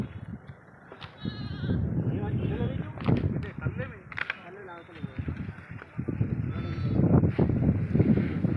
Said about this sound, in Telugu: ఇక్కడ మేకలు అన్నీ అవుతున్నాయి